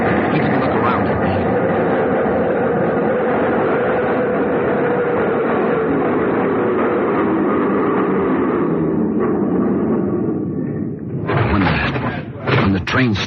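Subway train rumbling steadily along a platform in a 1940s radio drama scene, a dense continuous roar that eases off near the end as the train stops, followed by brief clatter and hiss of doors.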